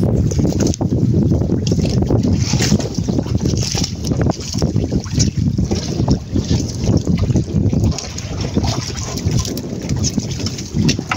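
Strong wind buffets the microphone with a loud, continuous roar and rumbling gusts that rise and fall throughout.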